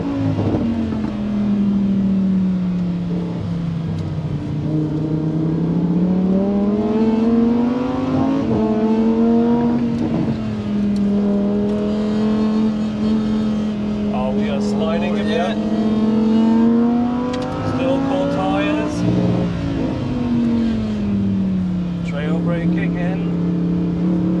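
Lamborghini STO engines rev and drone at the Nürburgring, pitch rising and falling in long sweeps, loud and sustained, with people talking faintly underneath.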